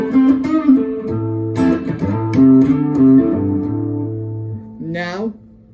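Clean tone from an Epiphone Sheraton Pro 2 guitar on the neck humbucker: a run of sustained single notes and chords rings out clearly with no voice over it, ending on a brighter, quickly fading strum.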